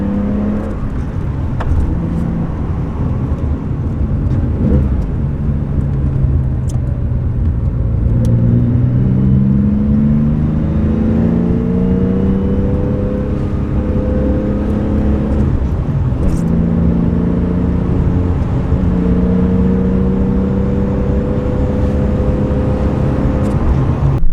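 A bright yellow classic Porsche 911 drives along the North Coast 500, its engine a steady, loud, rumbling drone heard from inside the car, with pitch rising and falling through gear changes.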